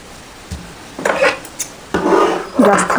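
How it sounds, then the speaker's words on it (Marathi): Scissors snip through blouse fabric while a katori blouse for a 38-inch chest is cut out. Three or four short, crisp cutting bursts come close up, separated by brief pauses. "जास्त कपडा ठेवून मी कट करून घेते."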